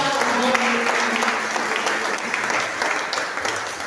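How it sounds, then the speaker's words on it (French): A church congregation claps together in sustained, steady applause, loud and continuous throughout with a crowd murmur underneath. "Can you clap for God?"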